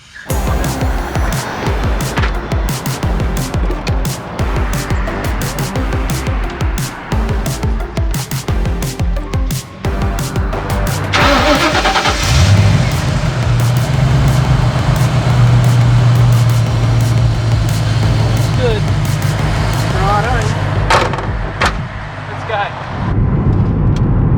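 Ford AU XR8 V8 engine with a squealing drive belt, running close at a show-and-shine event amid clattering noise and speech, then a sustained high whine rises over the idle for several seconds.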